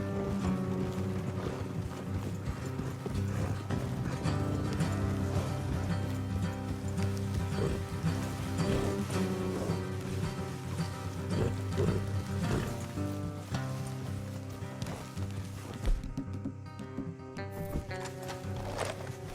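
Horses' hooves clip-clop along a road in the video game Red Dead Redemption 2, a steady rhythmic patter mixed under continuous game music.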